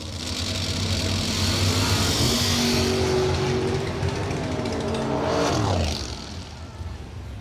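Drag racing cars roar down the strip at a bracket racing event, a loud sustained engine blast with rising pitch sweeps that fades off after about six seconds, leaving a lower rumble.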